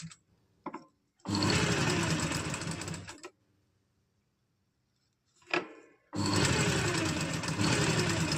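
A sewing machine stitches piping onto an umbrella frock in two steady, loud runs, each lasting about two seconds, with a quiet pause between them.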